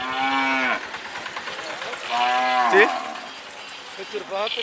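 A bull at a cattle market in Satkhira, Bangladesh moos loudly nearby twice in long, drawn-out calls, followed by a shorter, fainter low, with no talking.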